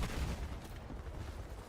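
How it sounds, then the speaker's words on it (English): Repeated booming blasts and crackling gunfire roll together in a constant, loud barrage, with no voices over them. "More explosions."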